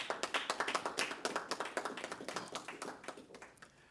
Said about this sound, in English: I would like for us to give a round of applause to the head table and the team that supports them